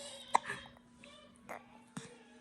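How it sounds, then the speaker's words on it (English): A baby hiccups close by, giving a few soft, brief hiccups spaced about a second apart in a quiet room. "You got the hiccups."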